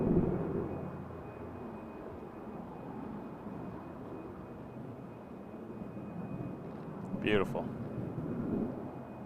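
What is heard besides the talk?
Air Canada passenger jet departing for Calgary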